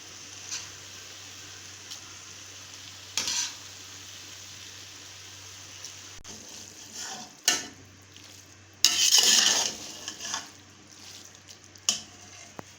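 Spaghetti mixed and stirred in a pan, with scattered scrapes and clinks of a utensil against the metal, a few louder bursts of sizzling stirring over a steady low kitchen hum.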